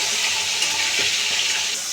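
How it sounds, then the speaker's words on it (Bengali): Fish heads frying in hot oil in a wok, a constant close sizzle with a few soft stirring scrapes, no voices. "মাছের মাথাগুলো ভাজা হয়ে গেছে"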